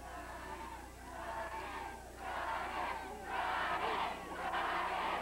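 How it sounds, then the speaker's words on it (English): A wrestling crowd at a 1988 Stampede Wrestling card chants a wrestler's name in rising, rhythmic waves, loud and reverberant across the arena, with no commentary voice on top. "Crowd chanting, Brian, Brian, Brian."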